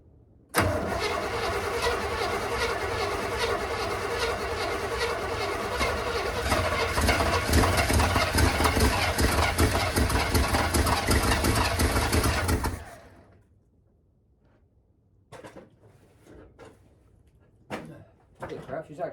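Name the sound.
old vehicle engine being cranked and starting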